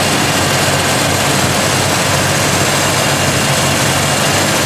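A Jeep's straight-six engine idles, a steady, loud drone rumbling without a break, a dense continuous roar with no voices over it.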